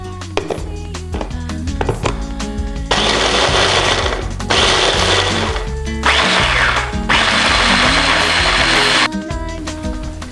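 A blender grinds speculoos biscuits with vanilla sugar in four loud bursts of roaring motor noise separated by short pauses, over steady background music.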